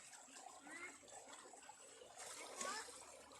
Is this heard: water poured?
yes